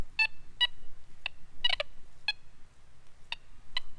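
Quest Q40 metal detector sounding a series of short, high-pitched electronic beeps in an irregular rhythm, roughly eight tones over a few seconds, clear and close with no talking.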